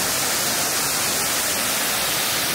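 Waterfalls and fountains at a scenic cliff park in China pour with a loud, continuous rushing roar and no voices.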